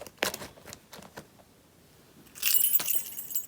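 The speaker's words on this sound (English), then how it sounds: "I've got car keys" Car keys jangle and clink in short metallic bursts near the start, then a longer brighter rattle of keys toward the end, close by and fairly quiet.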